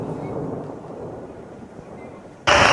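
Heavy monsoon rain pours over flooded streets in Ankleshwar, Bharuch, as a low thundery rumble rolls on, then a sudden loud, broad burst of noise erupts near the end.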